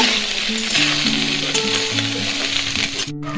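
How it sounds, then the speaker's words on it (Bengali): Pre-boiled soybean chunks fry and get stirred in hot oil with five-spice seeds, a loud, constant close sizzle with faint tonal background sounds and a brief clatter near the end. "সয়াবিনটা দিয়ে দিলাম তেলের মধ্যে। এবার কিছুক্ষণ নাড়ব।"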